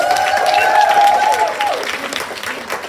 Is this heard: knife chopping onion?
no